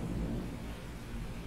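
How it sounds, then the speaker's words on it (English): Steady rain with a low, continuous rumble of thunder underneath in the indie horror game OverDose, broadband and even throughout, with no voices. "it's raining outside"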